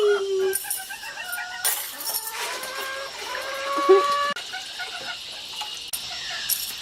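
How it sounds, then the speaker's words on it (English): Small chickens cluck and peep in short bursts, fairly close, with some clattering and rustling in between. "Little chickens."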